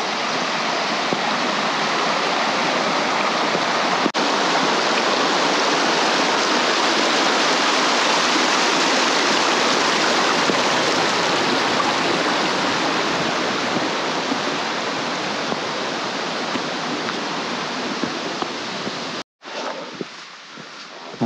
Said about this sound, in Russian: Вот он, ручей ледяной.